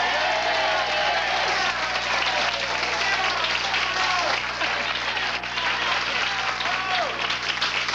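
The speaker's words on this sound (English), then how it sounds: "And the crowd starts yelling." A 1986 morning talk-show studio audience yells and applauds loudly and continuously, with dense clapping and cheering throughout and voices mixed into the roar.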